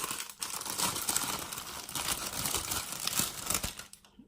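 A powder-pink eye makeup kit is unwrapped up close, with continuous crinkling and rustling of plastic packaging, a few tearing sounds, stopping abruptly at the end.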